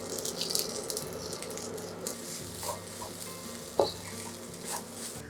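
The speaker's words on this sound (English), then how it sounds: "I'm gonna mix that through" Garlic fried rice being stirred in a frying pan, with a soft sizzle running under scattered scraping and clinking strokes from a utensil, one sharper knock near the end, fairly quiet and close.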